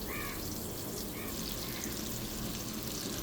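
Surmai fish pieces frying in a pan, a steady even sizzle with a soft watery crackle throughout, moderately loud and continuous with no voices.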